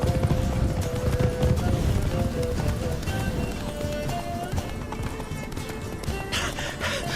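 Roach, a horse in The Witcher 3 video game, gallops with a steady, close, loud clip-clop of hooves over a dense game soundscape with no speech.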